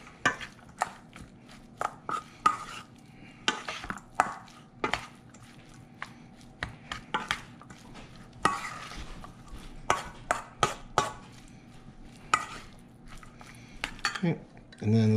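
A utensil clinks and scrapes against a bowl in irregular bursts as ahi poke with limu seaweed, soy and oyster sauce is mixed, close and fairly quiet with brief gaps between strokes.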